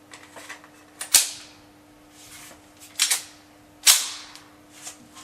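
A GSh-18 Sport pistol fires several sharp, loud shots spaced irregularly, each a crisp crack with a short ringing decay, plus a few fainter clicks and shots in between.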